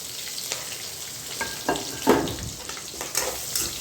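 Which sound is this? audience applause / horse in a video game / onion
onion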